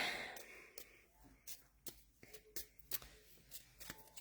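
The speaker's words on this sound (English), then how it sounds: "I don't know why I'm bothering to shuffle those because they're not going to look shuffled" A deck of cards is shuffled at a casual card and bingo night, heard as quiet, irregular riffling snaps and flutters spread over several seconds.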